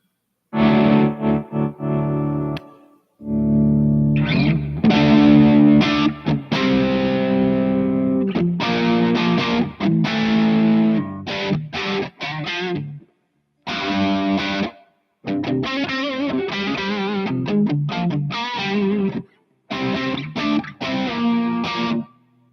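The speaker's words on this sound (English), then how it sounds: "Guitar's not too bad." Electric guitar played through distortion, chorus and reverb effects, loud and sustained, in several long phrases broken by brief pauses, with no talking.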